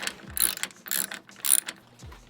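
A hand ratchet clicks in three quick bursts while loosening bolts on a truck, close and crisp, with faint clunks between strokes.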